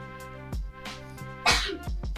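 A single sharp sneeze bursts out over background music from a Roblox climbing and jumping tower game, short and close, with a couple of smaller breathy bursts around it.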